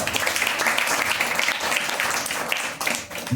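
A church congregation at a Sunday worship service claps together in a loud, sustained burst of applause that fills the room, easing briefly near the end.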